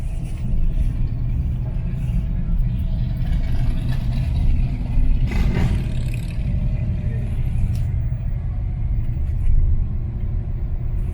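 An old Ford Thunderbird's engine rumbles steadily at close range, a low continuous drone that holds for the whole stretch with slight swells, heard outdoors in a small town.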